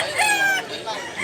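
A rooster crows once, loud and close, amid other chickens clucking at a poultry market in Mantalungon, Barili, Cebu.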